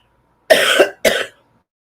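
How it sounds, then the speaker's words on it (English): Two short, sharp coughs in quick succession, close and fairly loud, with silence around them. "It's like something is in here causing me to cough more in my studio."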